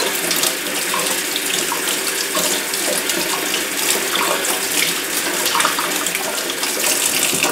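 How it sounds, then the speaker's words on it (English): Cool water runs steadily from a kitchen sink tap, splashing over a Black and Decker juicer part as it is rinsed; a continuous, close hiss with slight splatter, no voices. "So we're going to rinse some cool water."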